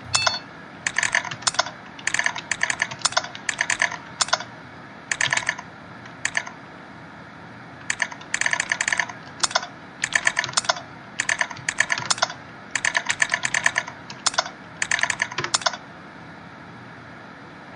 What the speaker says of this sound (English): Having an actual keyboard with this game makes data entry a lot quicker.